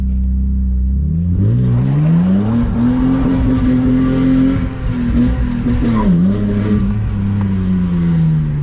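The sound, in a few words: BMW E30 cabriolet with M50B25 engine accelerating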